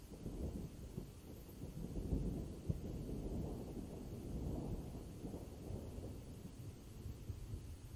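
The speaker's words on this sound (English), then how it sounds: "sound of thunder." Low rolling thunder rumbles on and off beneath a steady hiss of rain, with one sharper crack partway through.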